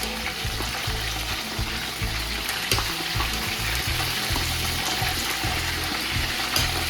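Chicken pieces frying in a pan of hot oil with onions, green chillies and curry leaves for a Telugu chicken fry biryani, giving a loud, steady sizzle with occasional stirring scrapes throughout.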